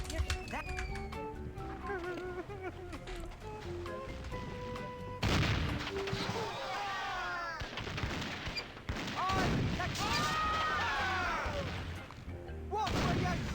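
Video game gunfire rings out in repeated sharp shots and rapid bursts, loud and close, mixed with a busy game soundtrack and voices talking throughout.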